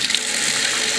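Water runs steadily from a tap to rinse clearomizer parts (Stardust CE5), a close continuous hissing splash lasting about a second, with no talk.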